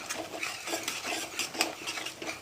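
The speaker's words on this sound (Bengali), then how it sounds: "এবারেও 2-3 মিনিট ভেজে নেব।" Onions and curry leaves frying in a pan while a spoon stirs them, giving a soft, steady scraping and clinking of utensil against cookware with a faint sizzle underneath, close and continuous, no talking.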